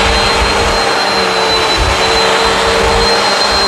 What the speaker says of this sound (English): A super maneuverable vacuum is so much nicer to use than one that doesn't have swivel.